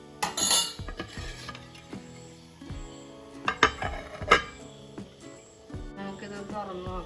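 The metal lid comes off a pot of coconut-milk prawn curry on a kitchen stove with a few light clanks and scrapes of metal, scattered over several quiet seconds.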